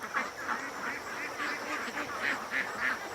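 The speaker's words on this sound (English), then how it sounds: "these ducks are calling the shots" Free-range ducks quack in a run of distinct, evenly spaced calls over a constant background chatter of the flock, close by and loud.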